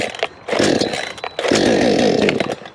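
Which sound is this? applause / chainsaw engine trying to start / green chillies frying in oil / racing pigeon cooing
chainsaw engine trying to start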